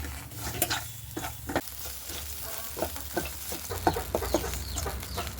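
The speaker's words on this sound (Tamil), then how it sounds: "இந்த வடித்து எடுத்த தினையை வந்து பொன்னிறமாக வறுத்துக்கலாம்." Drained millet is dry-fried in a pan until golden, giving a soft, quiet crackle with scattered scraping and tapping as it is stirred. The sound stays faint and close throughout.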